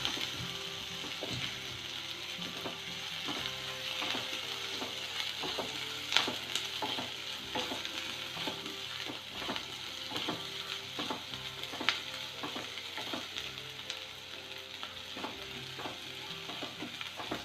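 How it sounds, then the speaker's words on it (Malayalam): Crushed ginger and garlic fry in hot oil for chicken tikka masala, giving a continuous sizzle punctuated by regular spoon-against-pan stirring clicks and scrapes, close and steady with no voices. "ഇഞ്ചിയും വെളുത്തുള്ളിയും കൂടി ചതച്ചിട്ട് കൊടുക്കാം ഇതിൻ്റെ പച്ചമണം പോകുന്നവരൊന്ന് ഇളക്കി കൊടുക്കാം"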